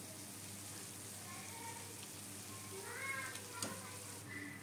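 Langcha sweets sizzling in hot oil make a quiet, steady frying hiss with a few faint bubbling pops, close but low in level and with no talk over it.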